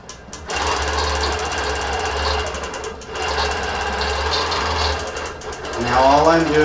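Quilting machine stitching steadily as its stylus tracks the groove of an urban-pattern design board, a continuous close mechanical whir and rapid needle chatter, briefly pausing and rising again toward the end.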